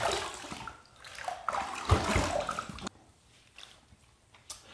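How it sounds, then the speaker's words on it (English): Running water rinses a razor during a shave with Proraso products, splashing and gurgling in bursts for about three seconds before dropping to a quieter trickle. "let's rinse"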